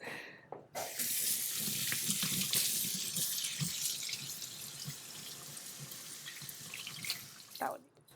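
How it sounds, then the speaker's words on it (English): Tap water running into a kitchen sink while apples are washed for green juice, a steady close splashing rush that starts abruptly and stops near the end. "Now we're going to wash the apples."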